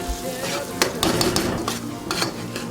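A spoon stirs turmeric and toasted spice powder around a hot pan, giving a brief run of close scraping clicks and taps over a soft sizzle, with no talking.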